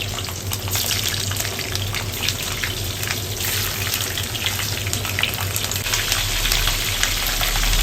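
Potatoes and peppers hit a hot frying pan with a steady, dense sizzle of oil that holds constant and loud throughout, close up.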